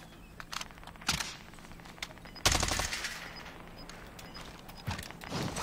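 Gunfire in a battle royale video game, with sharp single shots and a dense burst near the middle, then quieter scattered reports and a rustle of movement between them.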